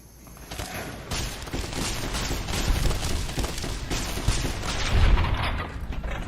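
Rapid, dense automatic gunfire from a weapon in a video game, a loud continuous barrage of overlapping shots lasting several seconds with a few heavier thumps.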